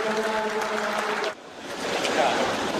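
Soldiers and press applaud in a gymnasium at an Indonesian Army Chief of Staff Cup Yongmoodo martial arts competition, a broad wash of clapping rising after a voice speaks briefly at the start.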